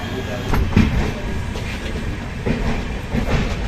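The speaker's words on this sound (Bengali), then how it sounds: "নেতাজি এক্সপ্রেস আম্বালা ক্যান্টনমেন্ট রোডে পৌঁছালো 3টার সময়" The Netaji Express passenger train runs along the line near Ambala Cantonment, with a loud, continuous rumble and recurring clickety-clack of wheels over rail joints. A few sharper knocks stand out within the steady ride.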